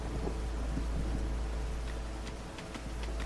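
A storm in Against the Storm rumbles under steady rain and wind, a constant heavy wash of noise with a deep low roar and scattered sharp crackles near the end.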